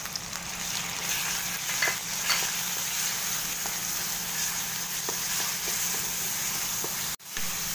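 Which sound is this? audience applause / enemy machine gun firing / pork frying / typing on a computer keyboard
pork frying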